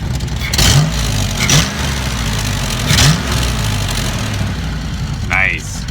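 Ford Foxbody Mustang engine with an exhaust leak, idling roughly with several short revs that rise and fall, a ticking, puffing exhaust note close by, and a person talking over it.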